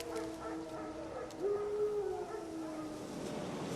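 Wild dogs howl in The Witcher 3 game, a long wavering howl rising mid-clip over a steady ambient bed, moderately distant and without talk.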